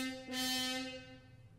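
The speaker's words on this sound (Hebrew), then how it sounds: "צפצוף של מכונית רחוקה" A car horn sounds from far off at night: one steady, sustained honk with a sudden bright burst at its start, fading away gradually.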